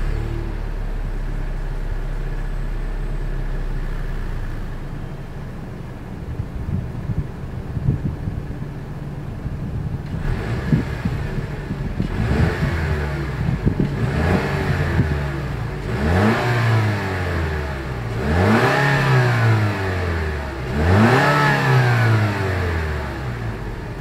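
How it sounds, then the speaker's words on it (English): A 2020 Lexus NX 300 F Sport with dual chrome-tipped exhausts idles steadily, then revs in several rising and falling pulls that get louder toward the end, close to the microphone with no talk. "As always, here is that exhaust clip."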